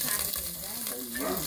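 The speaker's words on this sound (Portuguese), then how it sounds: "Fritando o que tem mais gordura. Certo? Entra com bacon." Bacon fries in a pan with a steady, close, dense sizzle that holds evenly through the short stretch, with no talking.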